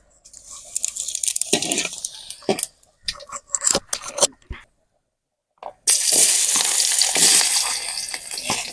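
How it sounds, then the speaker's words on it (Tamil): Fennel seeds go into hot oil in a pan, first crackling in uneven bursts, then a pause, then a loud, steady close-up sizzle with no talk. "இப்போ வந்து எண்ணெய் காஞ்சிருச்சு அடுத்து சோம்பு போடுவோம்"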